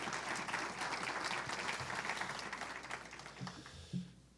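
An audience at an evening politics event claps, a dense sustained round of applause that thins out toward the end with a few scattered claps.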